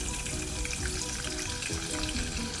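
Rice sizzles and fries steadily in a hot pan with cloves and cardamoms, a dense continuous crackle close up with no voices.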